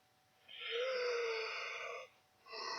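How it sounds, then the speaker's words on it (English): A single long human yawn rising into a drawn-out moaning exhale, close and clear, followed by a short second vocal breath after a pause. "Sorry about the yawn."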